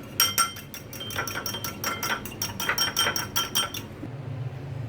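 Eggs with black pepper and salt whisked briskly in a bowl: a fast run of close, sharp metallic clinks and taps that stops after about four seconds, with no talking.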